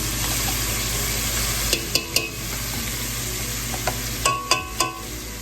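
A garlic masala mixture for chana masala fries in vegetable oil with a steady, close sizzle, punctuated by several sharp clinks and scrapes of a utensil against the pan.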